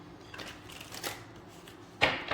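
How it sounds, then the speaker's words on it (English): An Everyday Witch Tarot card deck being shuffled, with soft riffling bursts close by and a sharper, louder flutter of cards near the end, no talking. "the first deck is the Everyday Witch Tarot, and let's give it a shuffle"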